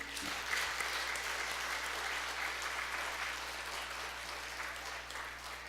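A crowd applauding steadily at a Christmas church service, many hands clapping together in a sustained wash of sound that holds for several seconds, with a faint low hum underneath.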